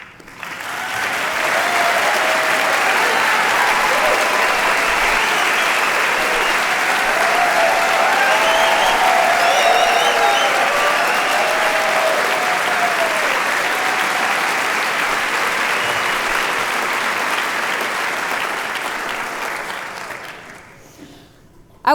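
An audience at an awards event opening applauds the judges as they stand to be acknowledged, a loud sustained wash of clapping from a large crowd that swells quickly, holds for about twenty seconds, then fades out.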